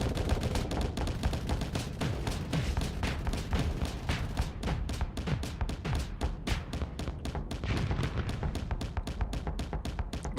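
Spaceship weapons in the Starsector space combat game fire automatically in a dense, steady barrage of rapid gunfire-like shots, loud and continuous throughout with no talking.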